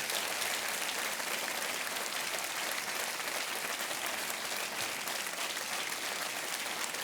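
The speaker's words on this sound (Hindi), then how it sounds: "तालियां बजती रहनी चाहिए देवियों से।" Studio audience on a television quiz show applauding continuously, a dense, even wash of clapping from many hands that holds steady throughout without pause, no voices rising above it.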